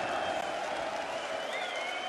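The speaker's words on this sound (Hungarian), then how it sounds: "Néhányan meghajolnak, de a legtöbben tapsolnak." Darts crowd at the PDC European Darts Grand Prix 2023 quarter-final applauding, a dense, continuous wash of clapping and crowd noise, fairly distant and even, with faint voices mixed in.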